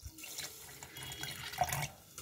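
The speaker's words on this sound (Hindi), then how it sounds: "अब इसमें थोड़ा पानी डाल देते हैं।" Water poured into a grinder jar holding semolina and yogurt, a steady splashing pour with a brief louder gush near the end, close and alone in a home kitchen.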